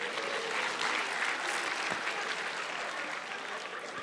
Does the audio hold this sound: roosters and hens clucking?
no